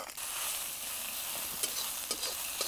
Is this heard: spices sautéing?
yes